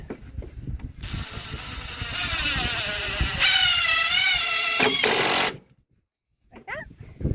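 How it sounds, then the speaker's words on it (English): A power drill whines, rising in pitch as it drives a screw into the wood of a chicken coop, then cuts off into silence before a brief clatter. "We're going to drill it."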